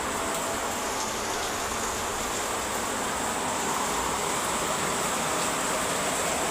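Heavy rain pours down steadily onto a veranda, a dense, unbroken hiss that stays loud and close throughout without voices.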